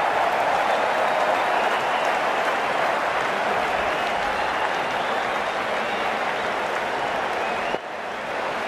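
A stadium crowd at a simulated India versus Australia match in Cricket 19 applauds loudly and continuously, a dense wash of clapping that stops abruptly near the end.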